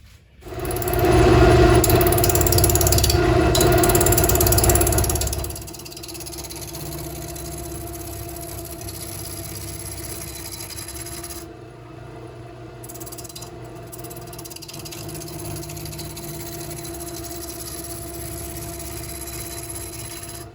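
A woodturning lathe shaping an acorn-shaped wooden bird house, a loud motor whine with cutting noise for the first few seconds, then a steadier, quieter hum with a faint rattle as the piece spins.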